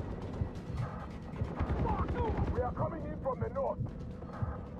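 Gunfire from enemies in the video game Far Cry 3 rattles on, loud and mixed with heavy booming and mechanical noise, while someone talks over it.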